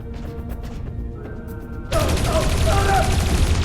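Gunfire in the video game Dreamfall Chapters: after a quiet ambient stretch, a loud, dense burst of shooting erupts partway through and keeps roaring steadily to the end.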